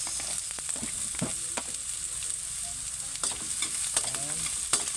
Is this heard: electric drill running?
no